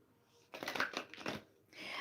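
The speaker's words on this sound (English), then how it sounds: "we're going to go ahead and shuffle" Tarot cards being shuffled by hand: a quiet start, then about a second of close, dry papery riffling and crinkling bursts, a pause, and soft rustling again at the end.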